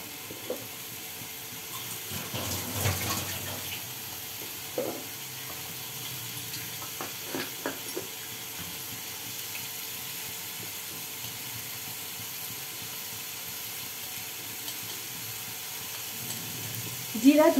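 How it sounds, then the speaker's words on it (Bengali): Masala with turmeric fries in a pan for a rui fish curry, a low, steady sizzle under a faint hiss with occasional scrapes of stirring and a brief louder splash at the end. "পরিমাণ মতো হলুদ নিয়ে মশলাটাকে ভালো করে কষিয়ে নিচ্ছি।"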